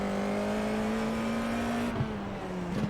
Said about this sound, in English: Go down into third, then hit the gas early.